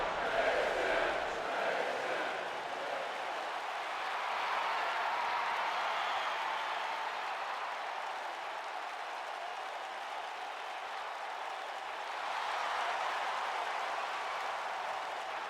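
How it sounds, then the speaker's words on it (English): A large arena crowd in WWE 2K19 keeps up a steady, loud wash of applause and cheering, swelling slightly toward the end. "And the crowd showing their appreciation for our new General Manager."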